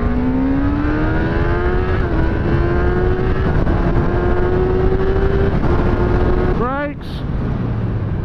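A 2016 Kawasaki ZX10R sportbike engine revs hard and climbs through the gears, its pitch rising then dropping at each shift, loud and close, with a final quick rev burst near the end.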